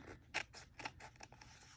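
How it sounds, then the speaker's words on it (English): Scissors snip through paper in a quick series of crisp, close cuts, quiet and with no talking. "I can usually run a scissors along the line."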